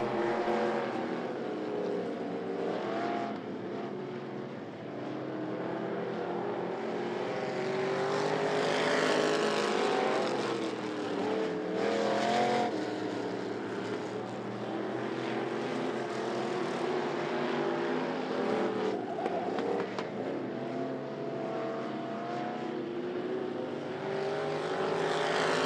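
Race cars lap a short oval at I-75 Raceway during a 20-lap feature, their engines a continuous loud roar that swells and fades as the pack passes, with no talk over it.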